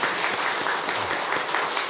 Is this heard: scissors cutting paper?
no